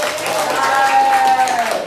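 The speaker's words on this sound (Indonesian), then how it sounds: "Tepuk tangan buat kalian semua." A classroom group claps steadily for the students for about two seconds, a dense wash of applause with a teacher's voice running over it.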